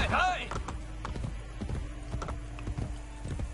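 A horse in Assassin's Creed Brotherhood whinnies loudly at the start, then its hooves clip-clop in a steady trotting rhythm close by, with a voice speaking over the riding.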